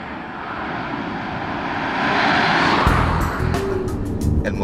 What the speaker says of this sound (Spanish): El motor es potente y es muy elástico, pero tiene el problema de todos los diésel